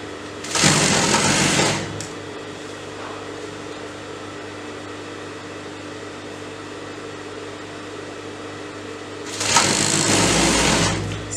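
A sewing machine stitches a belt onto salwar fabric in two short bursts of steady, fast whirring, one at the start and one at the end, separated by a quiet stretch of low room hum.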